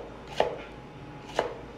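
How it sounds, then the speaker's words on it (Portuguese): A knife chops bell pepper on a cutting board, giving two crisp, close knocks about a second apart against quiet background. "Pimentão não vai dar pra fazer naquele negócio ali. Eu vou ter que cortar ele aqui na faca."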